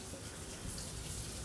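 Water running from a kitchen tap to rinse lettuce, a quiet, steady splashing stream heard alone for a moment.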